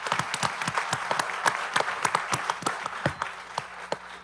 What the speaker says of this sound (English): just give them another round of applause for making it this far